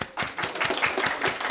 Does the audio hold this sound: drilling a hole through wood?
no